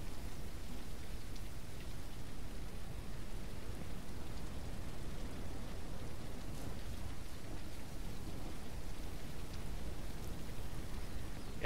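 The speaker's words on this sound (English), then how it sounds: "the water should be going up just on the fact that it's raining." Steady rain pours down across a ranch in the video game Ranch Simulator, a dense, even hiss of falling drops that holds at a constant level throughout with no talking.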